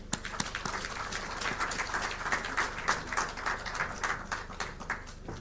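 An audience at a finance conference applauds, steady overlapping claps from many hands spread across the room, fairly distant and consistent for several seconds without voices.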